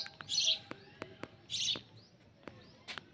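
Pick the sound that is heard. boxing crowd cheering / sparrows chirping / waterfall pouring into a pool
sparrows chirping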